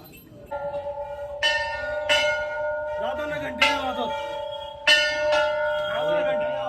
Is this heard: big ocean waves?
no